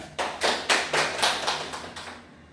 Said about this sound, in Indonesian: Beri aplaus ke temannya.